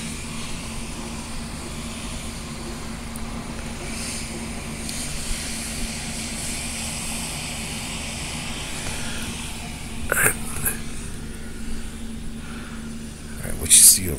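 A steady broad hiss and drone drifts over from a do-it-yourself car wash across the street at night, constant and distant, with a few brief louder bursts near the end and voices talking over it.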